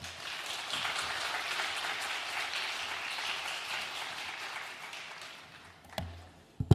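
A church congregation claps warmly at a Wednesday service to welcome a preacher: steady, dense applause from many hands filling the room for about six seconds, then a few louder scattered claps as it fades out.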